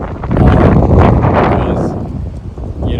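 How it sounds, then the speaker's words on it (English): Wind gusts buffet the microphone outdoors at Crescent Tower in Qatar in winter, a loud, roaring rush that swells and eases over a few seconds, with no speech. "it gets pretty windy in winters here"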